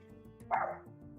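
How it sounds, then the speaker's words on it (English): A dog gives a single faint bark in the background of a quiet indoor room, with no talking over it. "There is a dog in the background there."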